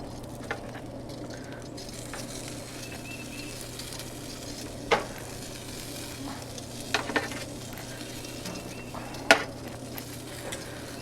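Smoked chicken wings sizzling on a grill, a steady soft hiss throughout with a few sharp clinks of tongs or utensils at intervals.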